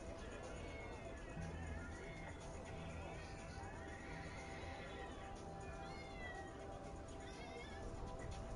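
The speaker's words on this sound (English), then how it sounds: "Why do I hear 2 cats fighting? That's South Park." Two cartoon cats fighting in a South Park episode playing in the background, their yowls and hisses faint and mixed into steady room noise and a busy, dense soundscape.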